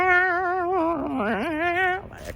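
Retro analog-style synth lead from a sample pack in a Stranger Things vein, a single warbling sustained tone with vibrato and a dip in pitch, clear and alone before it fades out.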